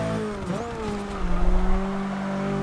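Nissan Silvia in Forza Motorsport 6 squealing its tires through lift-off oversteer, a sustained wavering screech over a droning engine note that swells briefly midway.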